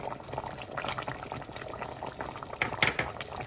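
A sauce for Burkina Faso-style spaghetti with soumbala and chicken bubbles in a pot as fish stock goes in, giving a steady close boil with liquid splashing and a few louder bursts near the end.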